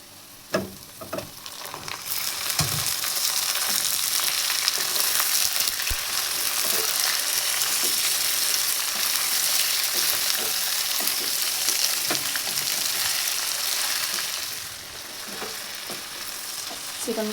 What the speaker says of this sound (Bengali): চিকেনটা দিয়ে ভেজে নেব